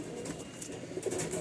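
Giribaj pigeon squabs in a loft coo softly in low, rounded murmurs, faint and close, with a steady background hum and no talk.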